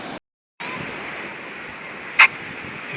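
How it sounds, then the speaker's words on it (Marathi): Arabian Sea surf washing onto a white-sand shore by Kunkeshwar, Devgad in Sindhudurg: a steady, broad rushing hiss that drops out briefly near the start, then resumes. "या साईडला पूर्ण अरबी समुद्र दिसतो आपल्याला, व्हाईटवाली वाळू आणि अरबी समुद्र"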